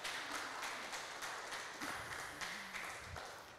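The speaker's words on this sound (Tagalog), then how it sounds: "Palakpak muli sa Panginoon." Applause for the Lord at a Filipino church service, a dense, fairly quiet wash of many hands clapping continuously from a congregation.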